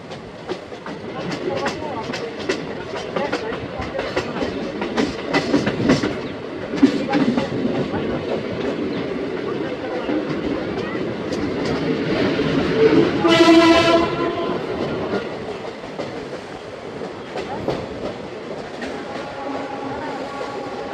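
Kolkata-Haldibari Intercity Superfast Express (12363) running, with a steady rumble and rattle of the moving carriages throughout and a brief horn sounding midway, while passengers chatter and laugh in the background.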